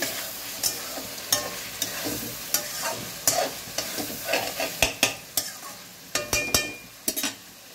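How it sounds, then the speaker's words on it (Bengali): Mutton sautéing in ghee with yogurt and salt, a steady close sizzle broken by repeated sharp scrapes and knocks of a spatula against the pan, coming in an uneven rhythm throughout. "দিয়ে এবারে কষছি"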